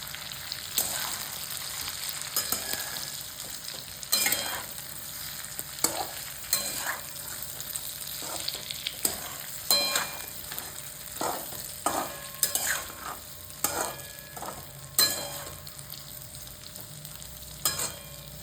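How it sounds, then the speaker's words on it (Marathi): Stuffed okra (bharli bhendi) roasting over medium heat in a pan, with steady soft sizzling and repeated scraping stirs from a spatula at irregular intervals throughout, fairly close. "मीडियम ह्याच्यावरती आपल्याला ती भेंडी व्यवस्थित शेकून घ्यायची आणि शक्यतो पलेटाचा वापर करायचा आणि हलवायची"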